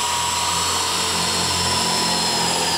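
A DeWalt DCD703 12V brushless drill running in drilling mode, a steady loud continuous whine with no pauses, heard alone.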